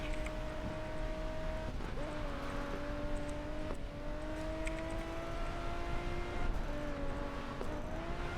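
A race car engine in the Racing Master mobile racing game drones steadily as the throttle is released and pressed again several times, with the pitch dipping and climbing back in repeated cycles.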